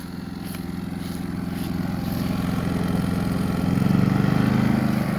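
Westinghouse iGen4500 portable generator with efficiency mode switched off, engine revving up steadily and growing louder from about ten to fifteen feet away, a continuous mid-pitched hum swelling toward the end.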